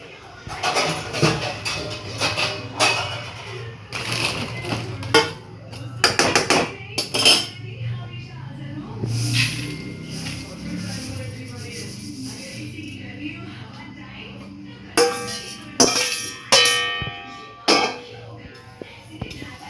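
Roasted seeds are scraped and tipped from a pan onto a plate, giving clattering metallic scrapes and rattling bursts at close range, spread irregularly over the span, with a voice talking in between.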